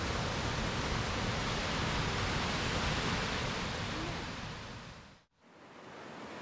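A waterfall pours beside a stream at a campsite along a mountain trail, a loud, dense, unbroken rush that fades briefly near the end before returning.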